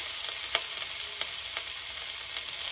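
Puimetuli (a Bengali dish of greens) cooks in a frying pan with a steady, hissing sizzle, while a utensil stirs it in a few soft, scattered scrapes and taps. No one speaks.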